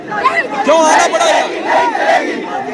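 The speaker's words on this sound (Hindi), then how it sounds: "ये भीड़ का अपना एक रुख है, भीड़ का अपना एक रुख है" Protest crowd at Jantar Mantar in Delhi, a dense mass of voices chanting and shouting together in loud waves, close and continuous for the whole stretch.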